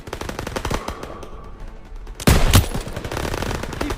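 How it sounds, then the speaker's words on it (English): Machine gun fire in Call of Duty WWII, a rapid crackling burst of automatic shots with a loud, heavy volley in the middle, continuing through the clip amid battle noise. "MGs, open fire."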